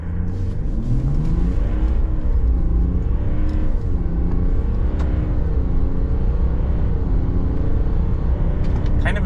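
A 2026 Chevrolet Silverado pickup with the 3.0L Duramax turbodiesel accelerates hard from a launch toward 60 mph, its engine droning loudly and steadily with rising, wavering pitch as it pulls through the gears, close and continuous without talk.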